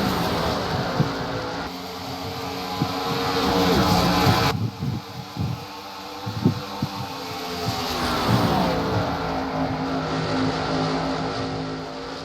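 Stock car engines roar past at high speed during the 2009 All-Star race at Charlotte, a loud continuous drone that swells and fades as cars pass close, with sharp bursts and doppler sweeps mid-clip.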